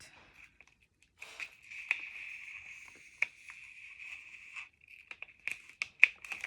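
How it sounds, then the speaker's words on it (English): Small scissors snip through paper and plastic while making a scrapbook layout. There are faint, close crisp clicks and crinkles in uneven bursts over a quiet background, with no talking. "And then I get a pair of little scissors, cut."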